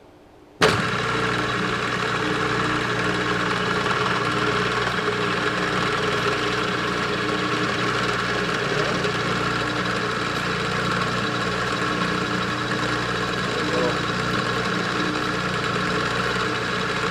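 A milling machine runs at 1100 RPM while cutting a rotary table adapter plate. A sharp start gives way to a steady, even machining whir and hum that holds constant and loud, with no voices.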